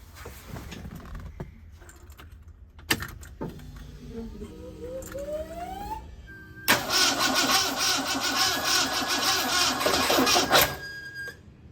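A 1968 Ford Mustang engine cranks with a rising starter whine, then catches and bursts into a loud, busy idle that runs steadily for several seconds before cutting off.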